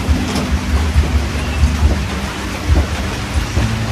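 Heavy rain falls steadily with a dense, constant hiss and low rumbling undertones, loud and close, with no voices.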